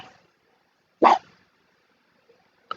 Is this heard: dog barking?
yes